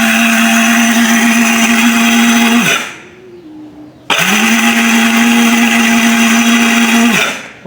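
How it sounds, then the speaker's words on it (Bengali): An electric blender grinder machine whirs loudly with a steady high motor whine, winds down to a pause, then starts again at full speed before slowing at the end. "তো ব্লেন্ডারটি ট্রাই করে দেখতেছি, এটা গ্রাইন্ডার কাজ করব"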